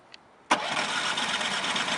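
Champion 3400W inverter generator started by remote, a brief click followed by the engine catching abruptly and settling into a steady, fairly loud running drone nearby.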